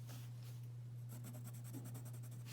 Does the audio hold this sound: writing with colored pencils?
yes